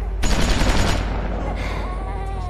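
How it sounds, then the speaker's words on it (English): Rapid gunfire bursts from the Walking Dead video game, a loud close volley of shots cracking in quick succession, then a harsher rumble as the firing fades under the game's sound. "Hey, shoot that one in the head."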